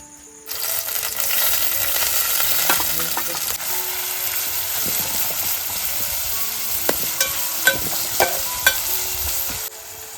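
Fish curry cooking in a pan at home, a loud steady sizzle starting abruptly and running throughout, with scattered metallic clinks and scrapes of stirring near the end.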